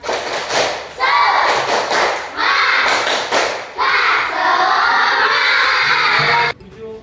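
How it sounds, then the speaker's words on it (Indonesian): A class of children performs a rhythmic spirit clap in a classroom, bursts of sharp clapping in set patterns mixed with loud chanting young voices, with brief pauses between phrases. "Tepuk semangat."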